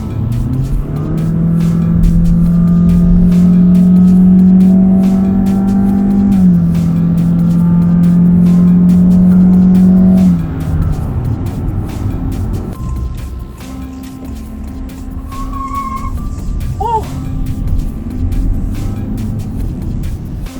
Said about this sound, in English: So I've been driving the City RS for a while now.